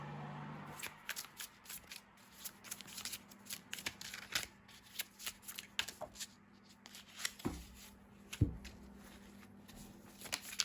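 Tarot cards being shuffled by hand, a soft, close series of riffling and sliding bursts in an irregular rhythm, faint and alone with no talk.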